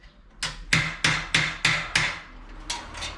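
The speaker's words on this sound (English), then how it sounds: "So I'm just coming along, sort of hammering down this leading edge a little bit." A hammer tapping down the leading edge of a tack plate for a 1951 Chevy headliner, with seven sharp metallic strikes at an uneven pace, close and clear, with no talking.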